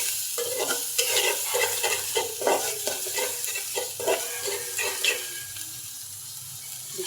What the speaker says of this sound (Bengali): সব কিছু ভালো করে কষিয়ে নেব।